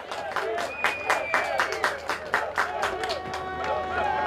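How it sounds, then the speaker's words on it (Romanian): Applause for the CSM Focșani 2007 youth football team after a win, a crowd of scattered hands clapping in quick irregular bursts, moderately close, with some background chatter. "Aplauze pentru CSM Focșean 2007!"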